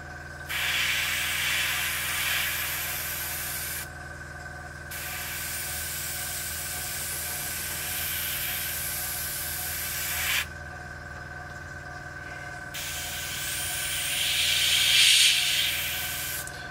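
Airbrush hissing steadily as it sprays paint onto a 1/48 Airfix Hawker Sea Hurricane Mk.Ib model aircraft wing, a close continuous spray in long bursts with brief pauses, no talk.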